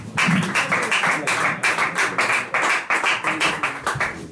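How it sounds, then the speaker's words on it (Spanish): An audience at a singer-songwriter and poetry gathering applauding a performer, a short burst of close, rhythmic clapping from a small group, steady and fairly loud throughout. "le damos un fuerte aplauso a Cristian Pinto"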